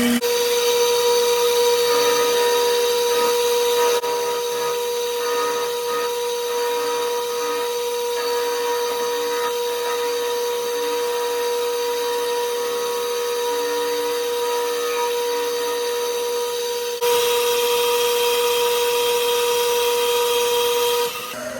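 A power tool fitted with a carbide-tipped blade cuts through wood with a steady, loud mechanical whine that holds throughout and shifts in tone partway through.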